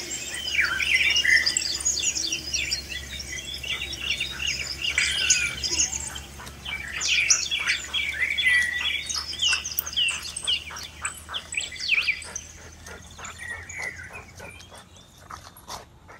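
Birds in a Costa Rican rainforest chirp and squawk in dense, overlapping bursts over a low steady hum, then thin out and grow quieter toward the end.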